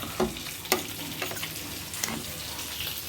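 Eggplant and coriander curry is stirred in a pan after salt and tamarind go in, with a steady low sizzle under several scraping spoon strokes.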